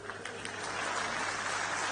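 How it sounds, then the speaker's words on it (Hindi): Applause from a crowd at a public stage event in India, a steady dense patter of clapping that swells slightly and holds, with a faint voice mixed in. "तो ताली बजा"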